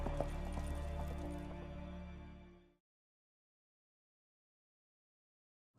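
Hooves of a horse in The Witcher 3 clatter in a quick, steady galloping rhythm close by, fading out abruptly midway and leaving near silence.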